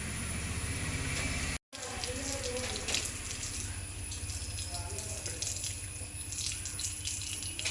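Tap water runs steadily into a sink during face washing with a gram flour paste, a broad constant splashing wash that fills the whole stretch, with someone talking faintly under it.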